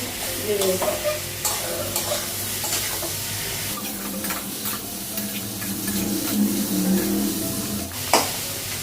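Potatoes with turmeric, coriander and cumin powder frying in a pan on a gas stove, a continuous sizzle with frequent stirring clatter and a sharp utensil knock near the end.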